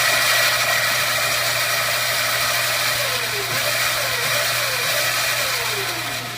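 A Razor E100 electric scooter's hub motor spins the raised wheel with a steady high whine and hum that shifts slightly in pitch, close and continuous with no talk.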